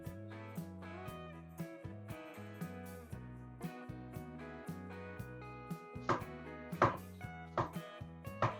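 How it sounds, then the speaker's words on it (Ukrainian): A knife chops a peeled pear on a cutting board in a steady run of crisp taps over soft background music. "Чистимо нашу грушу і наріжемо її."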